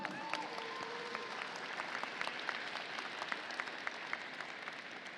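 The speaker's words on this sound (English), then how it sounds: "I would love for you guys to give it a round of applause to the Rebound team." A crowd at the FTC robotics Oregon State Championship applauds the Rebound team with a steady, distant wash of clapping, faint and even throughout.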